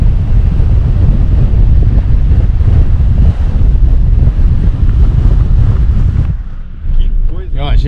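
Strong wind buffets the microphone on the Patagonian coast at El Calafate, a loud, steady roar that drops away briefly near the end as a voice speaks.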